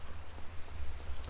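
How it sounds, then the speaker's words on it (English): Rain falls in the video game Minecraft, a soft, steady patter with a low rumble beneath it, quiet and without speech. "We are of course just standing out here in the rain, basking in the rain,"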